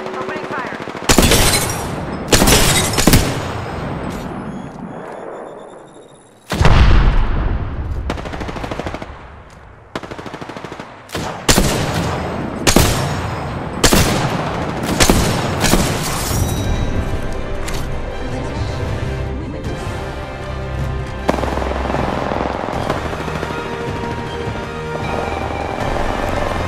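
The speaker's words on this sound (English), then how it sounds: "Opening fire." Heavy automatic gunfire and single shots in Apex Legends, loud bursts and sharp cracks repeating across the clip, with brief gaps and quieter stretches between volleys, under occasional game voice lines.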